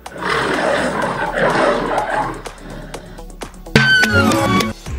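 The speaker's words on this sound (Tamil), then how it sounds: "சிங்கம் கர்ஜிக்கும்." A deep, rumbling lion roar swells and fades, followed by sharp, higher growling calls near the end, loud and close.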